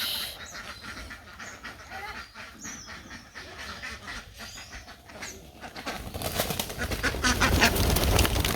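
Ducks quack and honk in a noisy flock, calls overlapping continuously and growing louder and busier toward the end.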